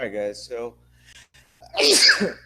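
A loud, sharp sneeze bursts out near the end, following someone speaking briefly.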